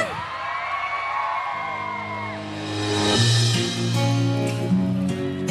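Concert crowd at a summer carnival party show screaming and cheering loudly, building to a roaring peak midway, with a sustained music chord underneath and shouts mixed in.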